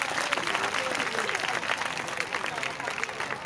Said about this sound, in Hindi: एक दफ़ा अपने लिए ज़ोरदार तालियां बजाएंगे।